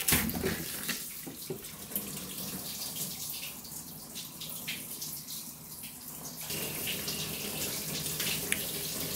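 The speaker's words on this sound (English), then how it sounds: "you're getting a flow out of the top side of that radiator" Water gushes out of the radiator of a Jaguar V12 during a cooling system flush, a steady hissing rush that dips and then grows stronger, with no voices.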